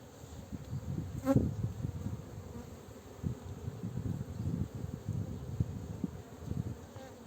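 A honeybee colony buzzes at a hive in hot Antalya summer weather, a dense steady drone with individual bees zipping past close by, no talking.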